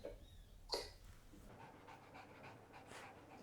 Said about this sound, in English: We've just had 2 dogs come in the room.